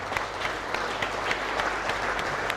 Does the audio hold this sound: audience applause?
yes